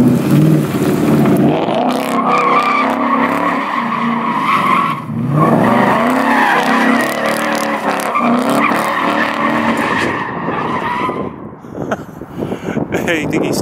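Ford Mustang GT skidding with long, loud tire squeals and engine revving nearby, while people talk over the noise.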